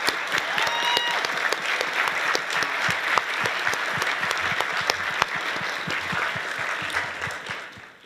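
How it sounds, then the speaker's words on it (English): Conference audience at a livestreamed event in Berlin applauding, a loud sustained burst of dense clapping from a large crowd that slowly tapers off at the end. "So applause for all of them,"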